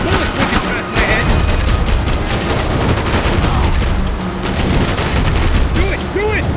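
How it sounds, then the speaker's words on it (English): Dense gunfire and fusillades in the video game Max Payne 3, with bullets whizzing past during a chaotic firefight, loud and continuous throughout with brief shouted voices over the top. "Bullets whizzing past my head."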